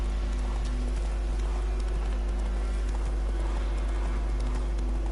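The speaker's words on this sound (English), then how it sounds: "I've lost control of this horse!" Horse hooves galloping in The Witcher 3, a rapid rhythmic clip-clop that runs steadily and close under a constant low hum.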